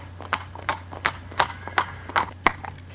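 Hooves of a rideable, athletic mare strike in a steady clip-clop of about eight sharp footfalls over three seconds, crisp and close, with a low mains hum underneath.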